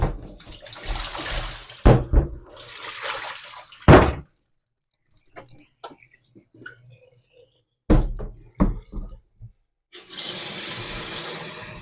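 Rinse water swirled and sloshed inside a Pinter fermenter, heard in loud close bursts of splashing and gurgling separated by quiet pauses, with a steady rush of flowing water at the end.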